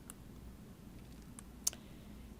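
A few sparse computer mouse clicks while working in Silhouette Studio, faint, quick ticks scattered over a quiet background, with one sharper, closer click standing out near the end.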